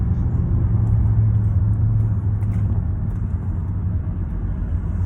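Heavy, steady low rumble of an old car engine idling nearby, a continuous throbbing drone with a faint hum running through it and no talk over it.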